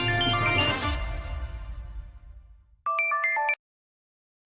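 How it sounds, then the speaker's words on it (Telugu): A short electronic phone ringtone melody chimes briefly for an incoming call in a Telugu TV drama scene, following a loud, noisy stretch and then cutting off to silence. "సిద్ధు ఫోన్ చేస్తున్నాడు."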